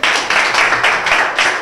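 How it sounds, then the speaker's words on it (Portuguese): Audience at a rap battle breaking into loud, dense applause, close and continuous, swelling in waves. "Aplausos, pessoal."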